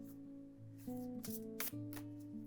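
Several quick papery riffles of tarot cards being overhand shuffled, in bursts over steady background music.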